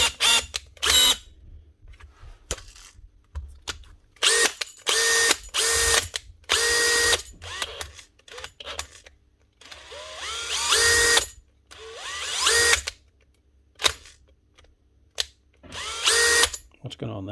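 A Makita DHP487 18-volt brushless drill in for repair runs in repeated short bursts, whirring with a rubbing, grinding noise inside, close and loud, with brief pauses between runs.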